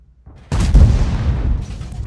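A World of Tanks cannon shot fired from a Skorpion G tank destroyer: one heavy, booming blast with a deep rumbling tail that fades slowly over about two seconds.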